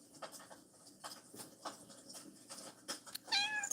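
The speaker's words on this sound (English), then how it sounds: "Did y'all hear her meow?" A pet cat named Boss Kitty meows several times indoors, short repeated mews spaced across the moment, fairly close but soft, ending in a louder, drawn-out cry.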